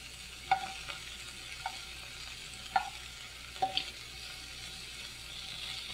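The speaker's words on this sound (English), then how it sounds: "And as I saute these, I'm just wanting to get them pretty much just about cooked." Ingredients for pad thai sauté in a pan, a soft continuous sizzle broken by a few light clicks and taps of a utensil, close but quiet, with no voices.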